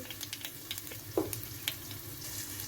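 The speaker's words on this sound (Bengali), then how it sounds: "কড়াইয়ের উপরে তেল দিয়ে গরম করে সাদা তেল দিয়ে ওর মধ্যে একটু কালো জিরে দিয়ে দিলাম" Black cumin seeds crackle in hot white oil in a wok, a soft steady sizzle broken by a few sharp pops, close and fairly quiet, with no voices.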